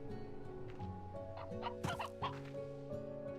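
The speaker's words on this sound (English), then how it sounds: "Okay, another hen, alright." A hen in the Slime Rancher 2 video game clucks several times in short bursts over a steady layer of game music, with no talking.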